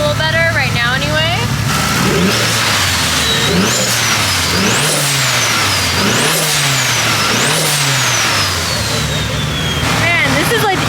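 A Mitsubishi Evo 5 with an upgraded Garrett turbo revs hard in repeated rising and falling sweeps, with loud turbo whistle and spool over a continuous engine roar, close and sustained throughout.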